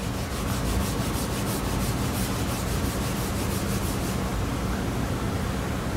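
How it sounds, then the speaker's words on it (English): Steady, even rubbing of a red sanding pad across a tapping block surface, a continuous dry hiss with a faint repeating stroke rhythm. "I'm going to try it with just a red sanding pad first"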